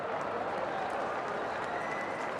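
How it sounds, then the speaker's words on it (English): A big round of applause for the 2015-2016 NSAA Believers and Achievers student award recipients at the Class A state championship arena, steady dense crowd clapping filling the whole stretch without a break. "let's give one more big round of applause to the"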